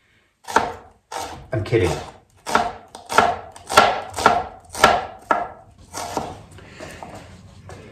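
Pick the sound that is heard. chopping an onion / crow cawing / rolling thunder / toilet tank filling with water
chopping an onion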